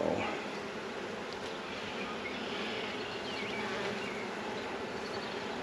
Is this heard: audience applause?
no